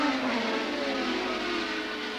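Racing cars approach the chicane at Silverstone during the 1984 International Trophy, a steady engine whine with pitch gently falling as they slow, heard at moderate distance.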